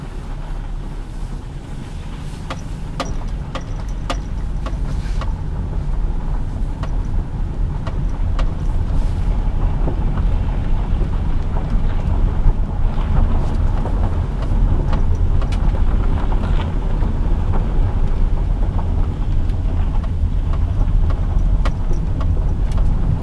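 A 2002 Subaru Outback H6 3.0 L.L. Bean Edition rolls slowly down an alley, its engine a low steady hum with faint tire crunch and small clicks, loud and continuous throughout.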